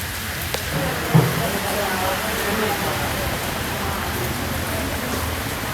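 Steady rain hisses across the whole stretch, a dense even wash with a brief knock near the start and no clear voices.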